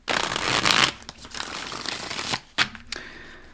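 Tarot cards shuffled by hand, a dense riffling burst at the start followed by softer slides and a couple of sharp card snaps near the end, close and clear with no talking.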